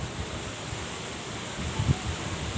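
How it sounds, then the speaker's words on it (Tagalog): Steady, strong wind roaring across the microphone, a constant broadband rush with a few low gusty thumps near the end, no voices. "Sobrang nung hangin ngayon"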